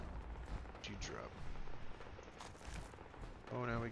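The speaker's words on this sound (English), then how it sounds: "We got gunfire, Kate. We got gunfire happening." Faint video game gunfire in Fallout 4, muffled shots and bursts rumbling at a distance amid low game noise, with a brief voice near the end.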